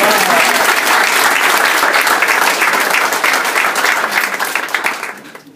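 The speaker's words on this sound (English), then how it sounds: "First, an applause for you." Loud, dense applause from a gathered crowd at a new office opening fills the room, sustained clapping that tapers away near the end.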